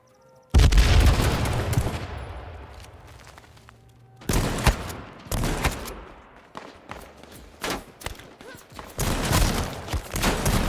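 Sniper rifle shots in the video game H1Z1 crack out as loud, sharp bursts, each trailing into a rumbling echo, several spaced across the span with a dense sustained barrage partway through.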